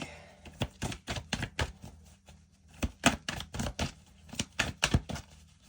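Tarot cards drawn from a deck: a string of sharp, close papery slaps and flicks in quick irregular bursts with short gaps, no voice.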